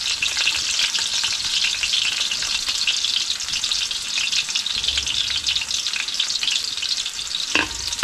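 Turkey adobo fries in a large wok, hissing in a loud, continuous sizzle while a utensil stirs and scrapes through it, with no voices.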